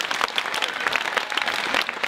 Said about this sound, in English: Turn the can around, give it a good shake in the microphone, and listen to the applause